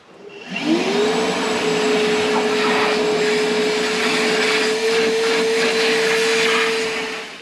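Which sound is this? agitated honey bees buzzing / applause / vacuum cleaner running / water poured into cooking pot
vacuum cleaner running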